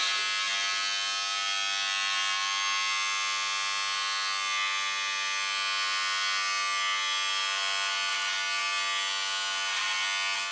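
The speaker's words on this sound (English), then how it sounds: "Now for the Norelco trimmer, I have this set at 10 for the longest length, and you slide this up" A Norelco QT4000 beard trimmer set at length 10 runs steadily close by, a constant high buzzing whine that holds level for the whole stretch with no talking.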